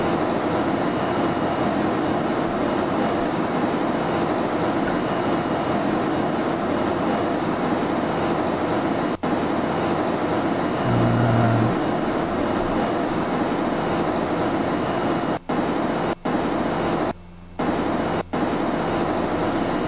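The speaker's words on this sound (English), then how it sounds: "It is very noisy in this cockpit." Steady, loud broadband drone inside the cockpit of a light propeller aircraft in the X-Plane 11 flight simulator, continuous throughout with a few brief dropouts near the end.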